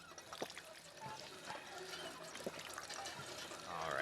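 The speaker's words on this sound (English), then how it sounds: "Alright, let's go ahead and get some water again." Water trickles and pours as a container is filled in a survival video game, a soft, fairly faint steady liquid sound with a few light knocks.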